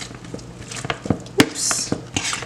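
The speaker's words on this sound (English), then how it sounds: "And I am going to mash this." Codfish being mashed with a utensil in a dish for a Bajan codfish casserole, with repeated close clinks and scrapes against the dish in an irregular rhythm.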